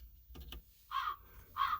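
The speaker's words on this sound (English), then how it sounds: "Is that a crow?" A crow caws twice outdoors, two harsh, evenly spaced calls at moderate distance, after a few soft clicks.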